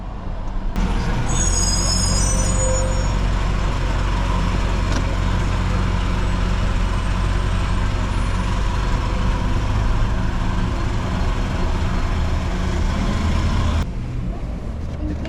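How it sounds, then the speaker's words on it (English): A garbage truck runs beside a fast-food drive-through lane, giving a loud, steady, low engine rumble that lasts nearly the whole stretch, with a short high squeal early on, then drops away abruptly near the end. "Horrible timing there with the garbage truck."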